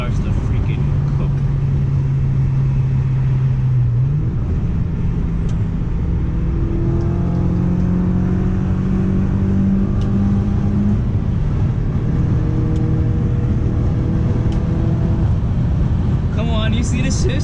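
Audi B6 A4 with a full ECS catback exhaust pulling hard on a night run, recorded from inside: a loud, rising engine drone with a quick shift and a climbing rev through the next gear, a voice talking over it.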